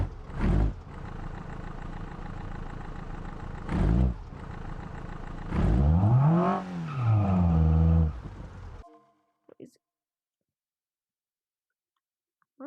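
A car engine revs hard and loud after running over a spike strip, rising and falling in strong surges for about nine seconds, then cutting out to near silence with a couple of faint knocks.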